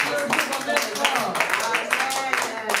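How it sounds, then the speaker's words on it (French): Rhythmic group clapping from a church congregation celebrating women, steady beats repeating under singing or talking voices throughout. "Est-ce qu'on peut applaudir pour ces femmes?"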